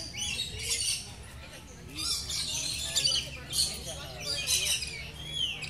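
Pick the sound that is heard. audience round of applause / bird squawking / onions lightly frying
bird squawking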